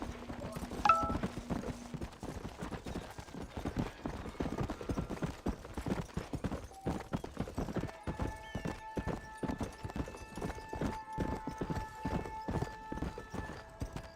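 Horse hooves clip-clop in a steady, rhythmic gait while riding in Red Dead Redemption, with a brief neigh and soft sustained musical tones underneath.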